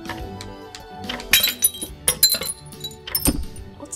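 Glass smashing in the game I am Bread, sharp bursts of breaking and clinking shards scattered in quick succession against a quiet background.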